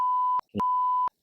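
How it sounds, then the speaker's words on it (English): Two loud, steady censor beeps, each about half a second long, cover speech with a pure tone, separated by a brief gap of muffled sound. "So if I were to beep out my video, it would sound like this."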